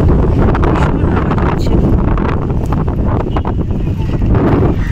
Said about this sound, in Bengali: হাওয়ার আওয়াজ পাওয়া যাচ্ছে